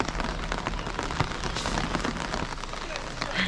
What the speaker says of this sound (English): See, there's something romantic about the rain.